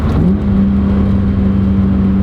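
A BMW E36 M3 fitted with an aFe intake accelerates under load, its steady engine drone holding loud and close with a rising tone early on, recorded from inside the car.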